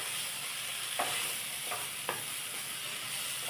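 Okra and chopped tomato sautéing in a pan give a steady soft sizzle, with a few quick scrapes of a spoon stirring through the vegetables; no voices.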